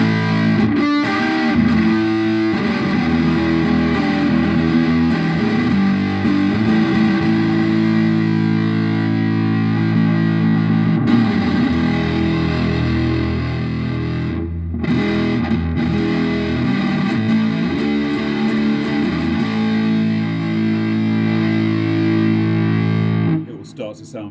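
Electric guitar played through a modded Fuzz Face fuzz pedal, loud and heavily distorted with sustained chords and riffs throughout, ending abruptly near the close.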